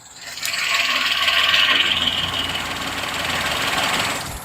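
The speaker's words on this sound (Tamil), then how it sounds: "நம்ம இப்பயுமே நம்ம இன்ஜின் நாய்ஸ் காட்டுறேன் பாருங்கள்." A Maruti family car engine runs steadily at idle, a constant hum with a faint scraping rattle on top, close by and fairly loud.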